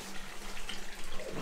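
Hot spring water at an outdoor pool in Yumthang Valley, Sikkim, flows and splashes steadily, a soft, close, continuous trickle and gurgle with no talking.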